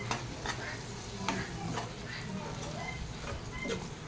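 A spoon stirs chilli powder and coriander powder into a bitter gourd curry over a soft background sizzle, with several light scrapes and taps against the pan, close but quiet.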